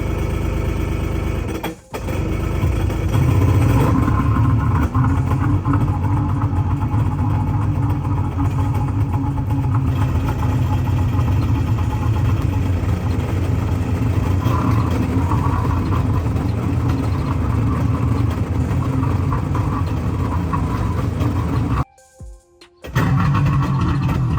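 Rebuilt Yamaha jet boat engines start and rumble loudly at a steady idle for a long stretch, with a brief cutout near the end before the running resumes.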